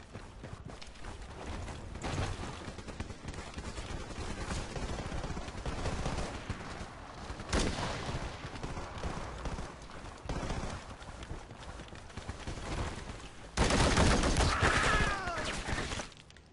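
Rifle fire in a Battlefield 4 test range cracks out in scattered single shots and short bursts, loud and close, with a louder sharp burst near the end.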